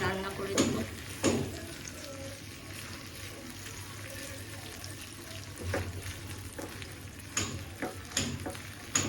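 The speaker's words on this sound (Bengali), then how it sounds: "একসাথেই ভেজে ফেলতেছি একদম ঝাল কম দিয়ে" Soft sizzling of food frying in a pan, with occasional clatters of stirring and faint kitchen sounds in the background.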